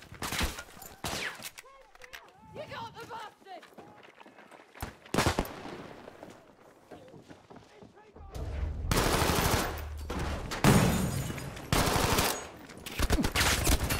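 Rapid bursts of automatic gunfire and single shots crack through a Battlefield V firefight, loud and close, with quieter stretches in between and a player talking at times.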